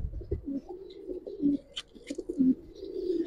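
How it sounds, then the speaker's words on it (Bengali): Young Giribaz pigeons coo in a low, repeated rolling rhythm, several throaty phrases in a row at close range, with faint higher chirps and rustles in the background. "আর আজকের কবুতরগুলো সম্পূর্ণ ইয়েং কবুতর ভাই, কবুতর অল্প দেখাবো কিন্তু ইয়েং কবুতর পাইবেন"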